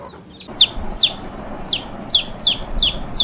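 Chickens at a rural home cluck and squawk in a string of sharp, evenly spaced calls, about eight of them, loud and close over a quiet background with no talking.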